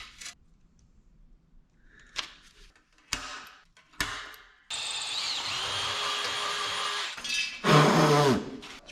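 A power drill bores holes through a radiator's mounting area for a shroud on a 1967 Toyota pickup: a few short clicks and taps, then a sustained whirring drill run and a louder burst near the end, close by.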